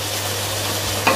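Beef being stirred in a pan with chili and a little soy sauce, a steady close scraping sizzle through the short stretch with a brief louder clack of the utensil near the end.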